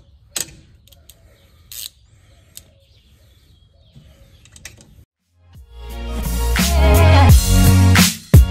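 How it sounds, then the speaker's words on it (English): A ratchet with a 7/16 socket turns steering wheel screws on a classic Ford Mustang, giving sparse quiet clicks and ticks up close before a louder, denser burst of ratcheting near the end. "So I'm using a 7/16 socket"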